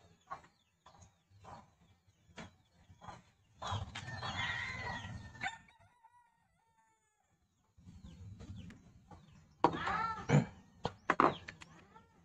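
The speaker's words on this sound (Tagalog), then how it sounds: "ay hindi talaga may iwasan na mayroong mga manok, mayroong mga sisiw, may mga ibon." Chickens and chicks around a house in a rural province: clucks, a rooster's crow and short peeps come in scattered bursts, fairly close but not loud, with quiet gaps between.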